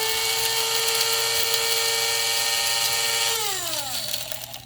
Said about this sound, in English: Then we're going to grind it up.